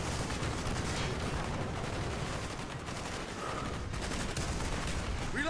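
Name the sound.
machine gun fire in Call of Duty: Black Ops video game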